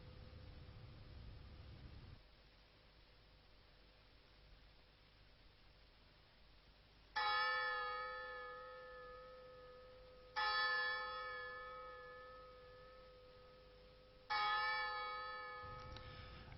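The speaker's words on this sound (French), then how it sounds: "Où qu'ils soient, et quoi qu'ils fassent, la cloche les ramène sans cesse à eux-mêmes et à Dieu." A Trappist monastery bell, recorded around 1960, rings in three separate strokes spaced a few seconds apart. Each strike is bright and resonant and fades slowly over a quiet, hissy background.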